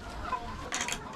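Purebred Asil rooster and hens in a cage, with brief clucking bursts near the end over a steady low outdoor rumble, fairly faint.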